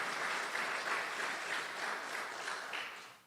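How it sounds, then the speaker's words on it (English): An audience at a mobility technology launch event applauds, a steady wash of many hands clapping at moderate distance that holds and then fades at the end. "Can we give another round of applause for"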